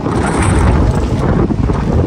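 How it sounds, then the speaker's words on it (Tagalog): Strong gusty wind in Greenland roars loudly against the microphone, a constant buffeting rumble with no voices. "Napakalakas ng hangin."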